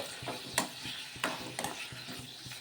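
Chopped vegetables soften in a pan as a spatula stirs them, giving a faint steady sizzle broken by several sharp scraping clacks at irregular intervals, with no talking.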